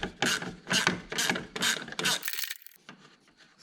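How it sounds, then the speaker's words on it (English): A wrench ratchets in quick repeated clicking strokes, close and crisp, while turning a headlight screw on a C5 Corvette, then stops and a faint rustle follows. "you can use the wrench to be able to really get"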